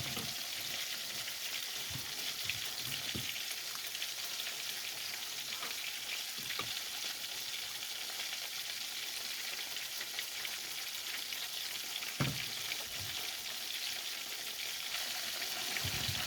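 Red snapper pieces frying in hot oil with garlic, a steady close sizzle that runs unbroken for the whole stretch with scattered pops and crackles and no voices.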